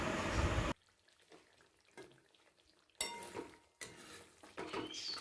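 A spoon scrapes and clinks around a pot while spices are stirred into a curry, with short clattering bursts separated by quiet gaps.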